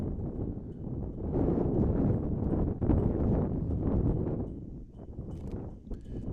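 Strong easterly wind buffeting an outdoor camera microphone at a cross-country meet, a continuous loud low rumble with gusty surges and no clear talk.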